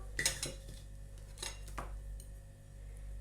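A spoon scrapes and clinks against a bowl, stirring warm milk into yeast, flour and sugar for pastry dough. The clatter comes in a few close, uneven bursts, loudest at the start, with nobody talking.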